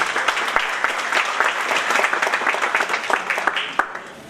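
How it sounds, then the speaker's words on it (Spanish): Applause from the audience at a human rights and constitutional law congress greeting a speaker, a steady, moderately loud patter of many hands with a few sharper individual claps. "Recibamos al doctor un fuerte aplauso, por favor."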